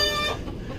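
Brief cluck from chickens inside a poultry coop, a short close call lasting under a second, fairly quiet.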